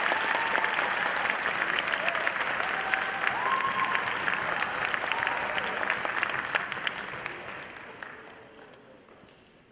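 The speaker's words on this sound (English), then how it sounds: "one more round of applause for the amazing youth orchestra and sixth grade orchestra" An audience applauds the youth and sixth grade orchestras at the Melrose spring orchestra concert, a full, sustained wave of clapping that gradually fades away toward the end.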